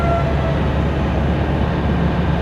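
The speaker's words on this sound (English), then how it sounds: "That was a train." A steady low rumble with a broad wash of noise, the sustained roar of a train rolling past nearby on a German back road.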